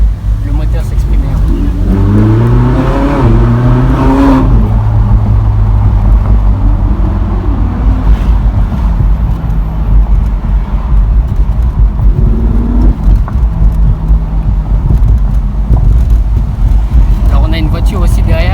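A Ferrari 458 Italia V8 revs loudly and close, with rising and falling engine tones through much of the stretch and a steady rumble between throttle blips.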